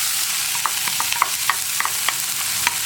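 A crushed green chili mix frying for a Kerala carrot thoran, with a constant close sizzle broken by light, irregular stirring clicks and scrapes against the pan, no voices.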